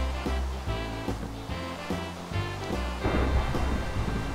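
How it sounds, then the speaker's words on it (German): Thunder rolls through a thunderstorm in Minecraft, with deep rumbles rising and falling over steady rain-like noise across the whole stretch, fairly loud with no voices. "Jetzt blitzt und donnert das auch noch"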